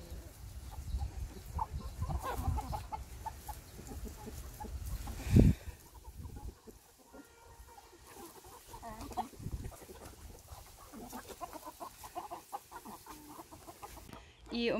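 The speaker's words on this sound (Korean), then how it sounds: "이 엄마 닭은 내가 옆으로 가기만 해도 막 난리 쳐요." A mother hen clucks and fusses in a chicken coop, with soft, irregular clucks and rustling close by, one sharp burst near the middle and a voice briefly murmuring.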